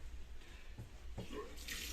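Water runs from the lower water-level test tap on a passenger railway carriage boiler, a faint, close trickle with a splashy hiss that swells toward the end, and no one speaks.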